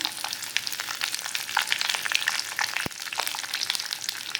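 Curry leaves drop into hot oil with mustard seeds for a raw banana dish, producing a dense, crackling sizzle that stays loud and even at close range, with no talking.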